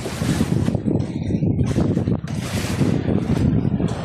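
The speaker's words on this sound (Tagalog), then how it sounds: "Ito po yung bangka sinasakyan ko." Loud, constant rush of water and wind noise buffeting the microphone, as from riding in a small boat moving across the water.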